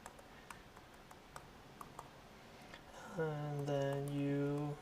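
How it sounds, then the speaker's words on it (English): Slow typing on a computer keyboard while coding an Ethereum smart contract, sparse single key clicks spaced about half a second apart, faint, before a voice starts talking over the last two seconds. "Apologies for the slow typing."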